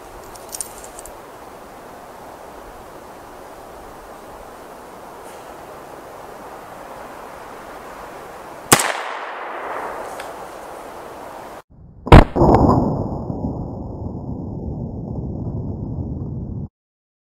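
A 300 Blackout rifle with a 16-inch barrel fires at a test target outdoors. Two sharp reports sound several seconds apart over steady wind noise, each followed by a ringing decay.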